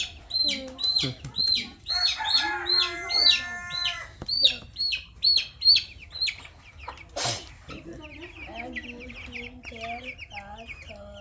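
Chickens and ducks at a rural home give a rapid run of loud clucks and squawks close by, then softer chirps and calls. A brief sharp noise cuts through the middle.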